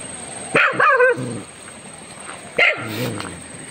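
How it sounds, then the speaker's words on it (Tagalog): A dog barks a few times nearby in short yappy bursts near a house on a mountain in Bukidnon, Philippines, with a pause between them and a high steady whine in the background. "May mga aso dito na"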